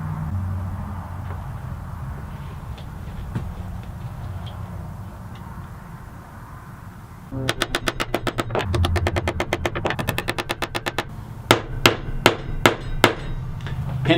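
Metal pins being hammered into the handle of a clearance-rack machete: after a quiet stretch comes a fast run of sharp, close taps, then a handful of slower, heavier blows.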